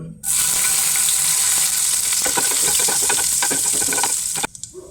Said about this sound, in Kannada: ಎಣ್ಣೆ ಸ್ವಲ್ಪ ಬಿಸಿ ಬಿಸಿ ಆಗ್ತಾ ಇದ್ದ ಹಾಗೆ ನಾನು ಮೆಣಸಿನಕಾಯಿಯನ್ನು ಹಾಕ್ತಾ